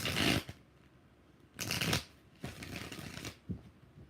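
Tarot cards being shuffled in separate bursts, a crisp riffle at the start, then longer rustling shuffles with quiet gaps between, close and fairly loud with no talk.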